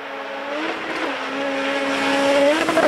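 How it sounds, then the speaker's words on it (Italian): Ford Escort rally car racing at Rally Sweden on snow, its engine a steady, rising, high-revving note with brief gear-change dips, heard at moderate distance. "Che bello il suono anche della Escort."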